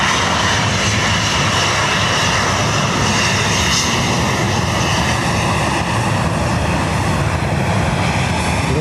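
A 20-year-old Etihad Boeing 777-200 at Dublin airport, its jet engines producing a loud, constant broadband roar with a thin high whine, unbroken for the whole stretch.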